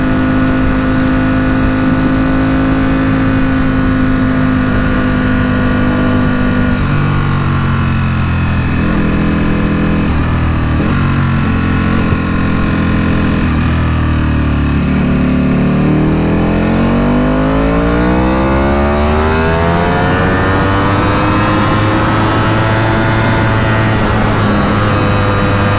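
A 2021 Ducati Superleggera V4 motorcycle engine runs steadily and loudly through Dallas traffic, its note falling and then climbing in a long rev sweep before settling into a sustained high drone, with no talk.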